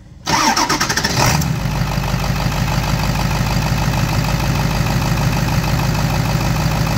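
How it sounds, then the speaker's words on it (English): A diesel engine cranks briefly after its glow plugs warm, then catches and settles into a steady, loud idle that runs on without talk. "start engine."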